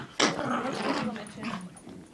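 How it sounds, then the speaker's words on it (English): A dog gives a short yipping bark, followed by softer whining vocal sounds, close to the microphone while people talk nearby. "She doesn't howl, she just barks."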